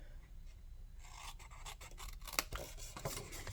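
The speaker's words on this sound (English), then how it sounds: "you cut on your score line and you cut in on your score line." Scissors snipping paper flaps along a score line while making a gift card sleeve, quiet close crisp cuts and rasping slides following one another over a few seconds.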